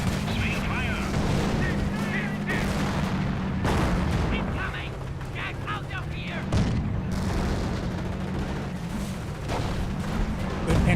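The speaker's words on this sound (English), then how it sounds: "Good Panzerschreck shots there onto the 25-pounder" Panzerschreck rockets and artillery fire from the World War II strategy game Company of Heroes thud and boom repeatedly over a constant low rumble of battle, with a caster talking over the top.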